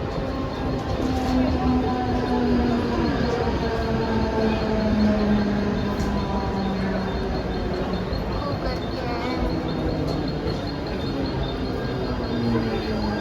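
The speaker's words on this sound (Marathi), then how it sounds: "आम्ही ठाण्याला पकडली ट्रेन" Steady rumble and rattle of a moving Mumbai local train boarded at Thane, heard from inside a carriage, continuous and fairly loud, with faint murmuring voices in the background.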